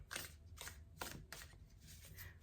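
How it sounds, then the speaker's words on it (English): Tarot cards shuffled by hand in a quiet room, a series of soft, papery riffling bursts at an uneven rhythm, close but faint. "One more shuffle."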